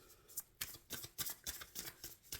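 Tarot cards are shuffled quietly in a string of soft, rapid riffling bursts, close to the microphone, with no talking.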